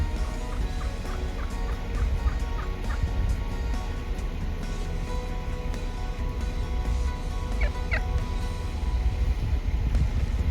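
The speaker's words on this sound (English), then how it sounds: "Some wild turkeys." Wild turkeys gobbling in Arizona's Madera Canyon, a few short rattling bursts called out at a distance over a steady outdoor wind hiss, with no talking.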